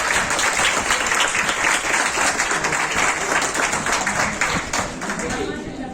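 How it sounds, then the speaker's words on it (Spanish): An academic conference audience claps for a speaker after a talk on Marian dogmas in New Spanish art, a dense, close burst of applause that holds steady and then tapers slightly at the end. "Un aplauso para él, por favor."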